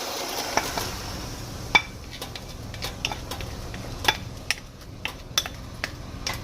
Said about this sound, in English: I'll just saute for a little bit.